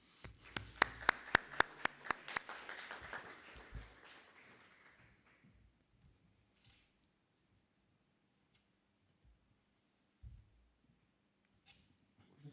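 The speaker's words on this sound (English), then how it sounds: "we should make ourselves really also a very nice applause" A small group at a project meeting gives a short burst of applause, a handful of sharp claps that fade within a few seconds into near silence broken by faint, scattered noises.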